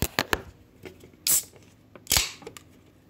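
A Coca-Cola drink is opened indoors: a few small clicks and taps, then two short, sharp fizzy hisses about a second apart, close and fairly quiet, with no talking.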